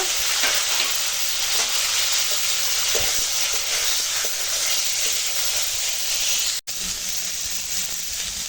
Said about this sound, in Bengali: এখন তেলের ওপর আমটা দিয়ে দেব